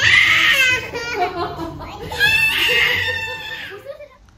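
A young child screams and cries continuously and loudly at close range while refusing food at home during Ramadan, the wails rising and falling in long bursts.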